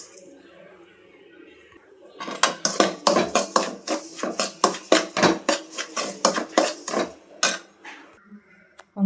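Chiroti rava (semolina) is dry-roasted for uppitu, stirred in a pan with a spoon: a quiet start, then a run of close, rhythmic scraping and clinking strokes that taper off.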